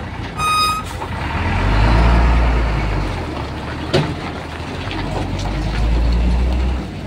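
A truck moves along Ulas Road in Davao City with a deep, rumbling engine that rises and falls, an early burst of reversing beeps, and a sharp clank midway, close and loud.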